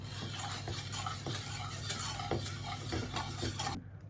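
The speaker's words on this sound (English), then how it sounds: "After a million years of stirring, it's thickened." A thickening pastry cream stirred steadily in a pot, with rhythmic utensil scrapes and light clinks against the metal, close up and continuous until it stops abruptly near the end.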